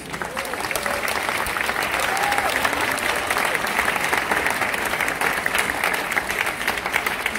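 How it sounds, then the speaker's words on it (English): A concert audience applauds a wind band's performance in a hall, producing a broad, steady wash of clapping that fills the whole stretch, with some faint crowd voices mixed in. "A big round of applause for yourselves, please."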